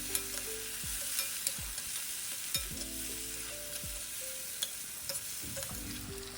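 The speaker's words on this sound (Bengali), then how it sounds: "এখানে সব কিছু onion, ginger, garlic and tomato খুব ভালো করে ফ্রাই হয়ে গেছে হাই ফ্লেমে।" Onion, ginger, garlic and tomato frying on a high flame for dhaba-style dal tadka, a constant crackling sizzle with repeated scraping stirs of the spoon in the pan; there is no talking.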